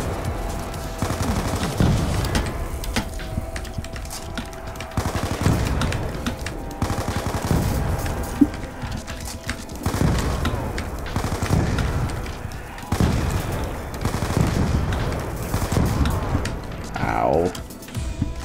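Rapid MP5 gunfire in a Call of Duty Zombies match comes in repeated close bursts with a speaker talking over it throughout.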